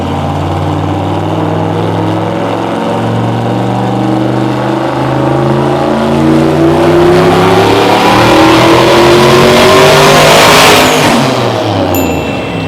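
A turbocharged Cadillac CTS-V runs flat out on a dyno, its loud engine climbing steadily in pitch through the gears as it revs hard close by, building to a roaring peak near the end.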